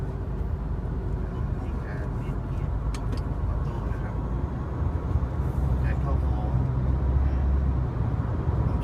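A 2016 Isuzu D-MAX 1.9 Ddi Bluepower automatic pickup on the road, with a steady low engine drone and road rumble heard from inside the cab while someone talks over it.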